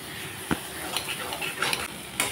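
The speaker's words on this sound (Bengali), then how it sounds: "এখন কচুর সঙ্গে আমি মাছের মাথাটাও কষিয়ে নেব ভালো করে।" Taro and fried hilsa fish head stir-fried together with spices in a pan, steady close sizzling with intermittent spatula scrapes and clicks against the metal.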